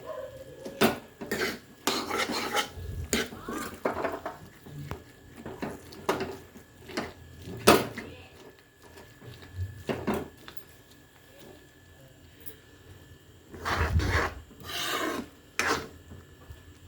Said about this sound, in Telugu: మొత్తం అన్ని ఇలా మ్యాష్ చేసేసుకోవాలండి